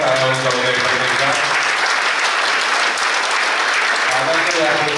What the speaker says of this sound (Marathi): मित्रांनो जोरदार टाळ्या वाजवा एकदा.